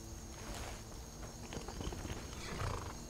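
Horse hooves clop in an uneven walking rhythm against a noisy, hissing Skyrim soundscape, moderately close.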